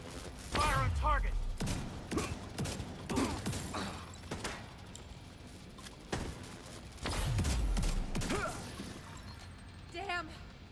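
Gunfire in The Division during a firefight with enemies and an EMP jammer, heard as bursts of sharp shots and shattering impacts at several moments, with voices talking over the action.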